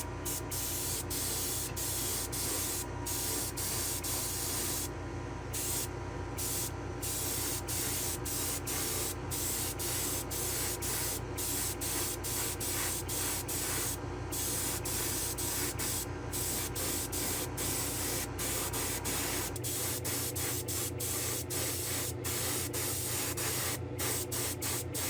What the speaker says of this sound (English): I'll meet you in the spray booth one last time. We'll do a nice clear coat.